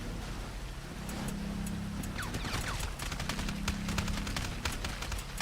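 Combat pistol shots in a GTA video game, a series of sharp rapid cracks heard at a moderate level over a steady engine-like background hum.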